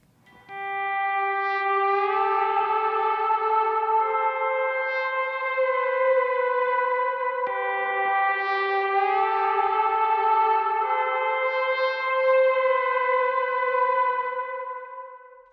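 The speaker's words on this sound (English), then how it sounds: "we're gonna be on slide, swelling in and sliding up to the next note" Slide electric guitar swells in softly and glides up between notes, playing two long, smooth, siren-like lead phrases that ring clearly with echo and no other sounds.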